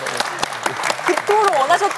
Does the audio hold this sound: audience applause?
yes